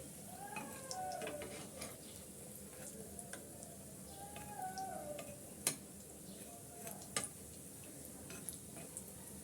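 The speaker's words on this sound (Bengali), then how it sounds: "আমি এই চারটি উল্টিয়ে পাল্টিয়ে ভেজে নিচ্ছি গোল্ডেন করে" Butter buns fry in oil on a stovetop and are turned until golden, giving a soft, steady sizzle with a few sharp clicks and taps. It stays quiet and there is no talking.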